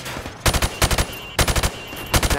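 A rifle fired from the hip in Call of Duty Modern Warfare, sounding as loud, close bursts of rapid automatic shots, roughly four or five rounds each, separated by short pauses.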